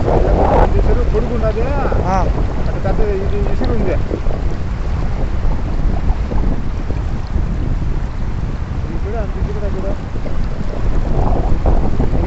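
Wind-driven waves splash on a large village lake in Andhra Pradesh, heard as a constant loud wash under heavy wind buffeting the microphone, with people talking faintly in the background.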